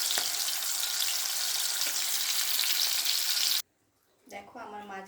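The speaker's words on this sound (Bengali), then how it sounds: "মাছগুলো ভালো করে ভেজে নেব" Fish frying in hot oil produces a loud, steady sizzle for several seconds, then cuts off abruptly to near silence before a voice begins speaking.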